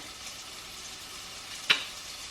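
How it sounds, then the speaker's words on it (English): Pineapple chunks and pineapple juice sizzle steadily in a hot pan, a soft, even frying hiss throughout with one brief sharper crackle near the end. "And then we're just going to throw in the pineapple with some pineapple juice."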